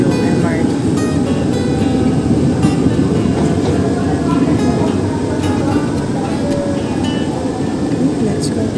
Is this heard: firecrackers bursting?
no